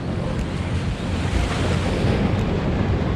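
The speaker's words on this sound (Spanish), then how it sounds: "Mira cómo va la ola ahí." Ocean surf at Clovelly Beach in Sydney, with waves bursting into a small rocky basin, roars in a steady, loud wash of breaking water and churning foam, with wind buffeting the microphone throughout.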